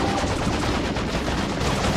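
Dense gunfire from an Eldar battle in the real-time strategy game Dawn of War II rattles continuously without a break. The overlapping shots are loud and close, with no voices heard.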